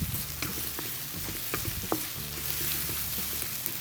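Onions fry in a pan for poondu thokku rice, a dense continuous sizzle with occasional spoon clicks and scrapes, close and fairly loud with no talking.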